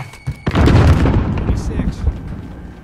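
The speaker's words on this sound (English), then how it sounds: "Throwing grenade." A grenade is thrown and explodes in a shooter video game, one loud boom with a rumbling tail that fades over a couple of seconds, preceded by a few short clicks.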